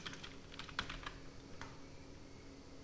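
Typing on a computer keyboard, a short burst of light, irregular key clicks close to the mic, then fading into a quiet room hum without speech.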